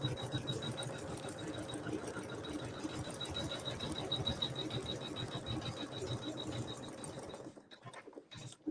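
Embroidery machine stitching a satin stitch over the raw edge of a vinyl tire appliqué, a steady rapid mechanical whir with a high tone running continuously before stopping near the end.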